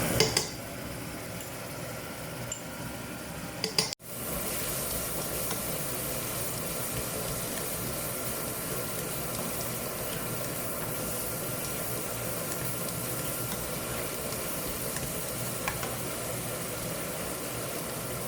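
Garlic paste and green chilli paste fry in a pan for chicken malai handi. A short clatter is followed by a steady, even sizzle that runs unbroken and moderately loud for over fourteen seconds.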